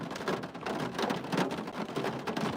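A steady, dense rain background effect on a live stream, a continuous close hiss of heavy rain on surfaces that swells slightly in places, with no voices over it.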